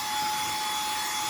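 A Koonie cordless air duster running in vacuum mode with a small brush attachment for dry-only work, giving a steady, loud, high-pitched motor whine that holds constant throughout with no talk.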